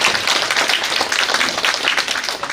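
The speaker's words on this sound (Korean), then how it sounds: "박수 한번 치고 하시죠" A church audience at a redevelopment briefing claps steadily together, a dense, even patter of many hands held close and loud throughout, with no talk over it.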